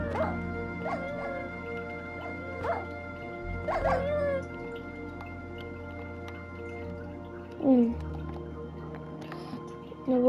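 Minecraft dogs in a cave give several short yips and whimpering barks, spaced out over a droning game background with occasional dripping sounds.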